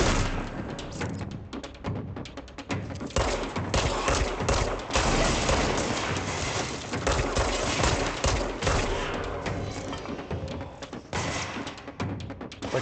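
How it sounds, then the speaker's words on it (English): Enemies in the action game Control open fire in a loud, sustained volley of rapid shots. Bursts of automatic gunfire mix with heavy thuds and booms that go on almost without pause. "What's shooting me?"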